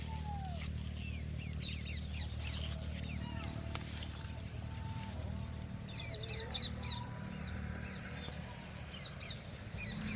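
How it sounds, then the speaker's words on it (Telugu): Many small birds chirp and twitter in scattered bursts while feeding in a millet field, over a low steady rumble, with faint voices in the background. "ఈ సొద్దల కోసం పక్షులు చాలా చూడండి ఆకలి మీద ఉన్నాయి"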